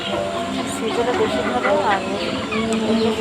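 Chickens kept in a netted enclosure cluck and call close by, partly under a person talking throughout.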